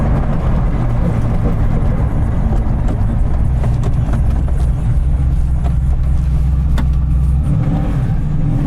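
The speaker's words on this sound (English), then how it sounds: "You can hear the engine behind you." A Mosler MT900S carbon-bodied race car with a twin-turbo LS7 V8 rated at 750 hp drones loudly and continuously from behind the cabin while driving, a steady deep engine rumble that fills the whole stretch without talk.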